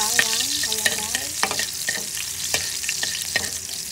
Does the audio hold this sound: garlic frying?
yes